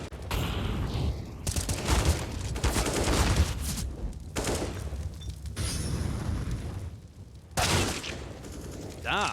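Rapid, loud bursts of AK rifle gunfire ring out during a professional CS:GO match between Team Liquid and ENCE, the volleys coming in clusters with short gaps and a commentator's voice running underneath.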